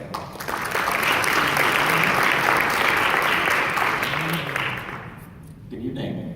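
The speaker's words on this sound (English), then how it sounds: "Let's just have a round of applause for him" A church audience breaks into loud, sustained applause for Aaron before his testimony, a dense wash of clapping that swells, holds for several seconds, then fades as a voice begins speaking.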